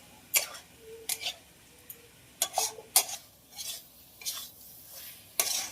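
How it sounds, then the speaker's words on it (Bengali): A spoon scrapes and knocks against a pan while stirring capsicum, cauliflower, carrot, beans and peas with spices, giving irregular sharp clinks and scrapes spaced over several seconds, close and without talk. "আবারও কষানোর জন্য খুব ভালো করে নেড়ে দেবো।"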